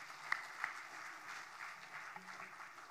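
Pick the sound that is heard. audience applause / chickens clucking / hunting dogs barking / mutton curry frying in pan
audience applause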